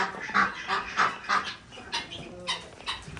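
A cluster of ducks quacking repeatedly in short, uneven bursts, moderately close, with no talking.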